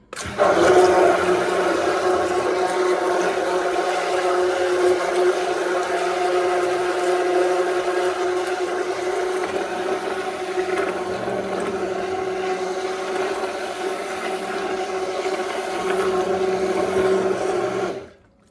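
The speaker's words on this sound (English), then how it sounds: "And now we're gonna do this, stick blending." An immersion stick blender whirs steadily for about eighteen seconds while mixing a homemade hair detangler of marshmallow root, slippery elm bark and flax gel with a preservative, then cuts off abruptly at the end.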